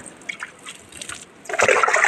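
Water is poured over freshly sown fenugreek seeds in a planting pot, a few faint trickles giving way to a louder close splashing pour at the end.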